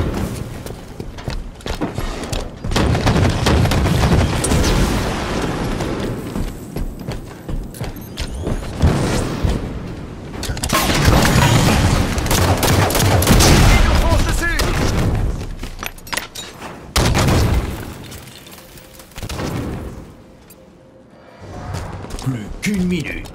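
In a Halo 5 match, gunfire and grenade explosions crack and boom in dense bursts, with heavy blasts recurring throughout the action.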